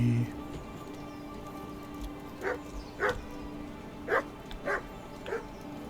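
A puppy in the video game Kingdom Come barks five times at irregular intervals, moderately close, over a quiet town ambience.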